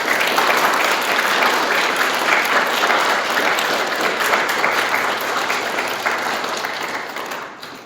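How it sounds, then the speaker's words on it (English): Mourners at a memorial service clap in tribute, a sustained round of applause that gradually fades out near the end. "I invite you to join with me in a round of applause in tribute to Eva"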